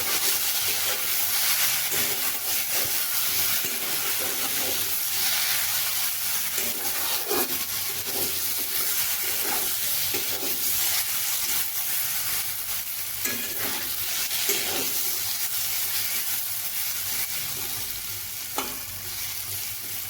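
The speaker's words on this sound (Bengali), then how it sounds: "এই আলুগুলোকে ভালোভাবে নুন হলুদ দিয়ে মিশিয়ে এইভাবে ভেজে নেব" Potatoes mixed with salt and turmeric frying in a pan, a constant close sizzle with repeated scraping stirs of a spatula throughout, no talking.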